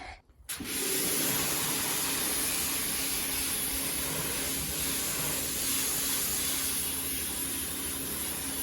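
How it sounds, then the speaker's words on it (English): A pressure washer sprays patio pavers in a garden with a loud, steady hiss that starts suddenly after a moment and holds close and constant to the end, with no talk. "Are you ready for some satisfying power hosing?"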